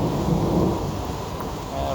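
Thunder rumbles during steady rain on a stormy day outdoors, a low loud roll sustained under the constant hiss of raindrops.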